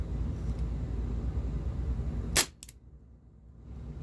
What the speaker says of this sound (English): This might be the last shot.